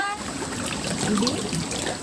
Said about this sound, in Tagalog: Medyo maliit ang sapa ngayon na ah, ang ilog.